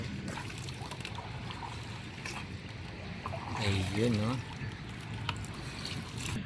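A boatman's boat moves along a river in Tondo, Manila, with a low, steady rumble and water wash running throughout, while a person talks briefly over it.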